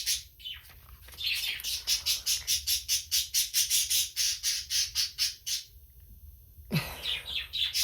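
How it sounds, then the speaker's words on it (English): Pet birds squawking and chirping loudly indoors, a fast rhythmic run of about twenty sharp repeated calls over several seconds, then a pause and a second burst, close and alone with no talking. "I don't know why my birds get so loud."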